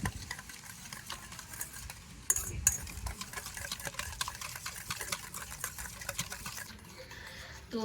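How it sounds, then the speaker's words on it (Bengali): A hand blender whirs steadily through a ghee-rich sweet batter, beating it smooth in a continuous close churning, with a brief louder burst midway and no talking. "আর এবার একটা ব্লেন্ডার দিয়ে সব কিছু একটু ভালো করে ফেটিয়ে নেব"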